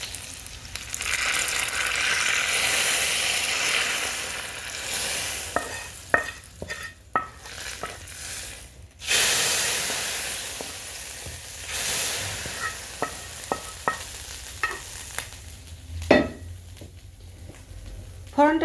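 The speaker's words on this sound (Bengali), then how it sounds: "আমি এই চুলায় ফোড়নটা ভেজে নিলাম" Tempering spices (phoron) frying in a pan on a stove for radish dal, giving a steady sizzle with scraping stir strokes and a few sharp clatters, some talk faintly mixed in.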